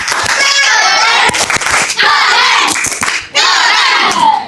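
Elementary schoolchildren in a classroom shout a rhythmic clapping cheer together, loud group chanting punctuated by sharp, synchronized hand claps in short bursts with brief pauses between.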